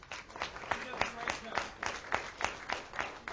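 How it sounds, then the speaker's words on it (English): An audience at a school board meeting applauds Coach Shibley with steady, fairly even clapping that stays moderate in volume and rises and falls in quick regular beats under a light room murmur. "you can give Coach Shibley a round of applause"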